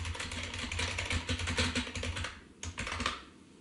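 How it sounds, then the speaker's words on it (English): A typewriter clatters out a poem in rapid, uneven bursts of close keystrokes, with a brief pause before a final flurry and then quiet. "It is actually typing out a poem about a typewriter writing a poem"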